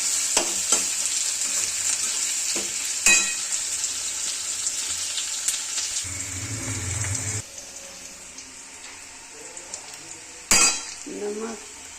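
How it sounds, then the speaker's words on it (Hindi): Chicken fries with chili and onion in mustard oil in a home kitchen, giving a bright, steady sizzle with stirring scrapes and clinks, then a quieter stretch with faint utensil sounds. "मिर्चाई, प्याज, सरसों तेल, चिकन बना रहे हैं।"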